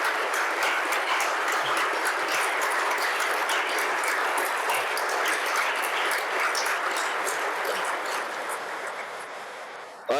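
Sustained audience applause honoring deployed National Guard soldiers and airmen at a state address, dense steady clapping filling the hall for about ten seconds before tapering off near the end.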